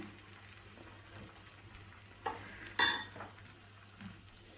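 A jowar flour and carrot vegetable chilla sizzles in oil on a pan, a soft, continuous frying hiss broken by a couple of sharp utensil clinks against the pan, with no talking.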